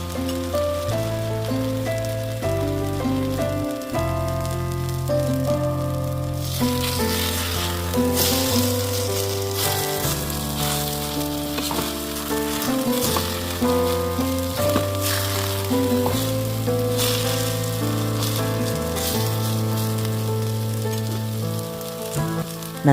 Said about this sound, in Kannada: ಸುಮಾರು 2 ನಿಮಿಷ ಸಣ್ಣ ಉರಿಯಲ್ಲಿ ಬೇಯಲು ಬಿಡಬೇಕು.